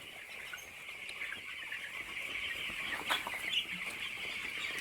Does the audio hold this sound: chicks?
yes